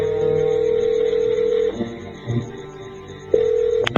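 A mobile phone dialing out plays a steady tone, then several short beeps before the tone resumes, close and clear with no talking over it.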